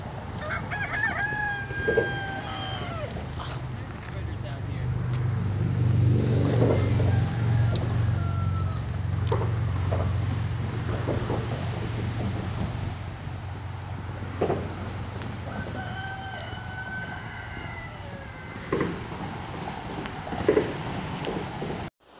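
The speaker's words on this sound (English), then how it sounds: "Chickens. Rooster. There's chickens too," A rooster crows several times, its strained calls rising over a low steady rumble, with some clucking chickens nearby.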